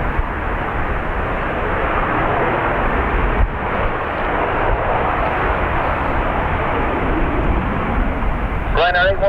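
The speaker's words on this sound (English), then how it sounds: "Why hear me when you can hear planes?" An aircraft departs from Dublin Airport with a loud, steady roar of engines sustained throughout, broad and close, with faint radio chatter starting at the very end.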